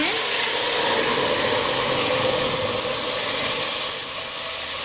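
Boiled corn kernels going into a hot pot to fry, giving a loud, steady steamy hiss that rises sharply at the start and holds strong and close throughout, with no talk.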